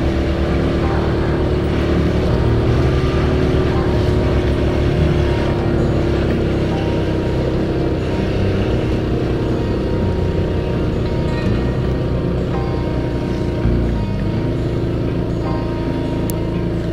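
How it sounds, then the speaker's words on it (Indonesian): A motorcycle engine labors steadily up a steep uphill road on the route to the Girpasang bridge, a loud, continuous drone that holds close and even the whole way with no pause. "kuat nggak ini motor saya."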